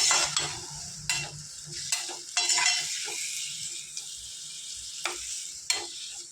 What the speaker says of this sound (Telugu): వీటిని ఒక టూ మినిట్స్ ఇది ఫ్రై ఫ్రై చేద్దాం ఆయిల్లో